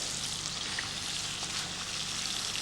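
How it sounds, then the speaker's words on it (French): Wine boils in a saucepan for coq au vin, giving a steady, dense bubbling sizzle that holds evenly throughout with no voices. "Et le vin bout"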